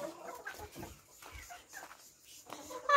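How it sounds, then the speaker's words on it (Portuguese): A farm hen clucks nearby in short, uneven bursts, with soft rustling between the calls and a sharper call at the end. "Eu acho que é essa galinha"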